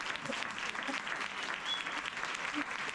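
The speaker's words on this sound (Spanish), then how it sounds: "Un aplauso para los docentes." Steady audience applause for teachers at a gathering on mental health and education, dense and continuous throughout, with a faint voice briefly underneath.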